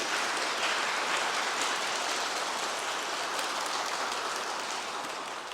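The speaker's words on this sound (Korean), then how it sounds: "박수 한번 좀 부어주시겠어요?" Audience in a church hall applauds at a Korean New Year retreat family Mass, a dense, steady wash of clapping that holds throughout and tapers slightly at the end.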